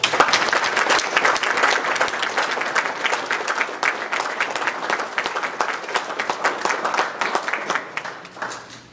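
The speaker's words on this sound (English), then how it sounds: "Round of applause" An audience at a Navy retirement ceremony gives sustained applause, a dense, steady wash of many hands clapping that carries on and gradually tapers near the end.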